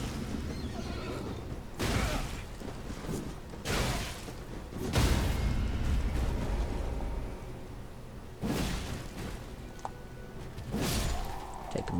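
A horse in the Elden Ring video game whinnies several times at irregular intervals, each neigh a loud, sudden burst over soft game ambience with occasional whooshes and low thuds.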